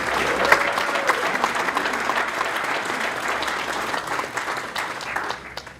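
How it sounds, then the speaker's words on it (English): Audience applause at a Polish Century Club membership meeting, steady broadband clapping from a room full of people that holds for several seconds before tapering off at the end. "Give that man a round of applause."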